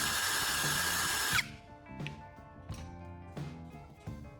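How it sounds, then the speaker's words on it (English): A power drill whines at high speed drilling a small hole in the bottom of a can, then stops; after that come several sharp knocks and short mechanical bursts spaced about a second apart. "With my drill, I'm carefully making a small hole right in the center."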